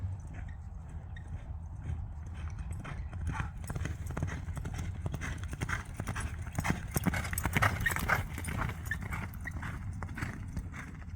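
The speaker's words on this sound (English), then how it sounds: "This cowboy and his Spanish horse are gonna rest right there at the Angelina River" A cowboy's Spanish horse clip-clops steadily at the Angelina River, its hooves sounding in a continuous close rhythm over low background rumble for the whole stretch.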